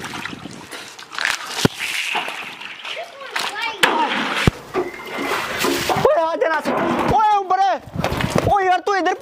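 Water splashing in a backyard swimming pool as boys bathe and play, with choppy bursts of splashing mixed under excited shouting and talk that grows louder toward the end.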